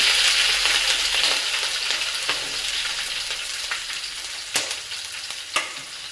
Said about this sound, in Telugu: ఫస్ట్ ఆవాలు జీలకర్ర వేసింది, తర్వాత పచ్చిమిర్చి వేస్తున్నారు